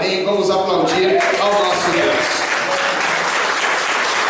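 Inside a church, a congregation claps loudly after a sermon, the dense applause mixed with voices and a sustained tonal sound in the first couple of seconds before settling into steady clapping.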